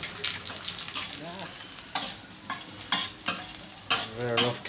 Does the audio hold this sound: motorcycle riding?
no